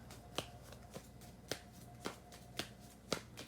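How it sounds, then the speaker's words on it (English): Tarot cards are shuffled by hand in a quiet room, giving soft repeated riffles and taps at a steady rhythm of roughly two per second, close and fairly faint. "I'm going to keep shuffling."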